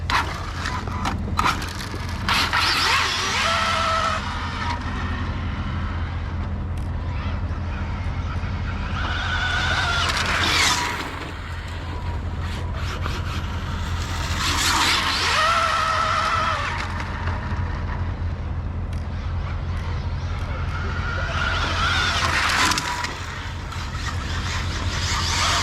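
An Arrma Infraction V2 RC car runs at full throttle outdoors, its high-pitched motor whine and tire noise swelling and fading in several repeated passes over about 25 seconds.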